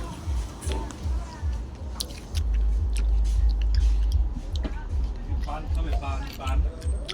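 Someone crunching and chewing cucumber close up, wet bites and mastication mixed with ongoing talk and outdoor night background noise.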